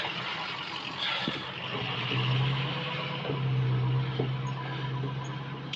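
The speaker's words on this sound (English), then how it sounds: "it's got a nice crisp acceleration to it" A car engine, not yet warmed up, revs with a steady mid-range drone that swells twice in quick, crisp bursts of acceleration before settling back, close and fairly loud with no talking.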